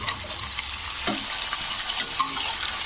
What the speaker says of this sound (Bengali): এবারে এগুলোকে একটু ভাজা ভাজার মতন করে নিতে হবে সবজিগুলোকে